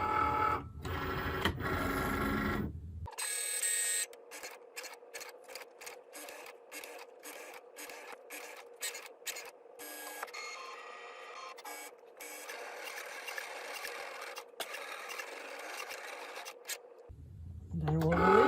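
A Cricut Maker cutting machine loads a fabric mat, then runs with a steady mechanical whir broken by quick clicking motor steps and carriage movements, close and moderately loud.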